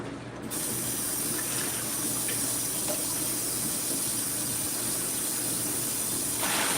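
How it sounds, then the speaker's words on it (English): Warm water runs steadily from a kitchen tap during late-night cooking, a continuous close hiss of flowing water that carries on without a break and with no voices. "I have to use the warm water from the tap"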